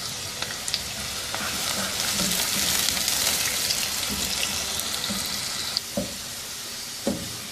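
Onion sizzling and frying in hot oil left from frying potatoes, a steady bright hiss throughout with occasional stirring clinks and knocks near the end.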